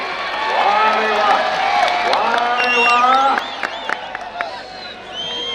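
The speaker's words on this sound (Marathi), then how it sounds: "टाळी टाळी टाळी टाळी टाळी टाळी" Loud crowd at an outdoor kushti wrestling bout in Kolhapur, Maharashtra, with clapping, cheering and whoops mixed with many voices, plus whistles and shouts later on.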